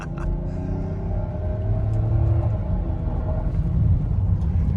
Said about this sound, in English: that traction control's not working anymore, so it let the front tires just rip